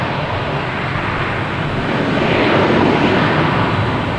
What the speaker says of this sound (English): we have a JetBlue heading to JFK, an A220